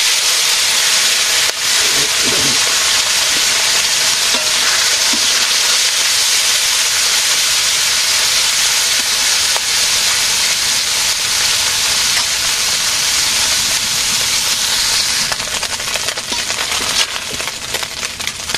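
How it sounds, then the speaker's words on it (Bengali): Small freshwater fish fry in hot oil in a village kitchen, a loud continuous crackling sizzle with occasional pops close by, fading slightly toward the end. "তেল গরম হয়ে গেছে এখন মাছটা দিয়ে দেই"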